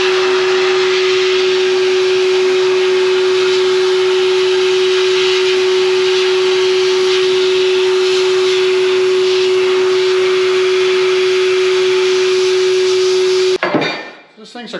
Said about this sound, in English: Finished blasting.